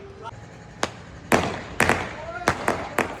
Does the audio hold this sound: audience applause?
no